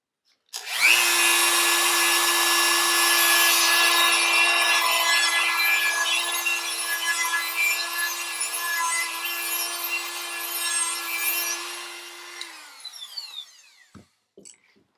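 A power tool grinds steadily for about twelve seconds, deburring a crank pin hole in an engine, loud and close with a constant whine, then spins down and ends in a few faint clicks.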